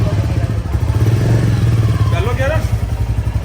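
A heavy Royal Enfield motorcycle is started and chugs at a low, steady idle while a person speaks briefly over it.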